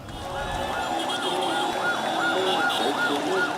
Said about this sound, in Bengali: সাইরেনের শব্দে ভারী হয়ে ওঠে ঢাকা মেডিকেল কলেজ হাসপাতাল এলাকা